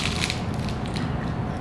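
Someone bites into and chews a crunchy tart holding celery, cranberries and toasted pecans. The crisp, crackling crunches come close up and continuous, with no talking.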